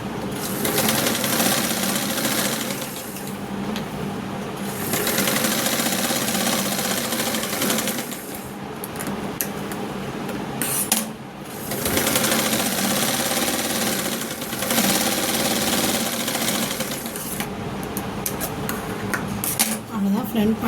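A sewing machine runs steadily while stitching the edges of a blouse lining, with a continuous whirring, rattling motor sound in long stretches and brief pauses where the stitching stops.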